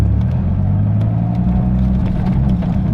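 Dodge Viper engine held at a steady, loud rev with a low rumbling drone under light throttle, continuous and close throughout.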